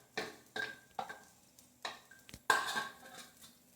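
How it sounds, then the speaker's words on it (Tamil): Grated coconut is being roasted in a pan over a medium flame, a metal spoon scraping and clinking against the pan in a series of sharp strokes with short quiet gaps, close and clear. "இப்போ நம்ம துருவி வச்சுருக்கிற தேங்காவை ரோஸ்ட் பண்ணி எடுத்துக்கணும்"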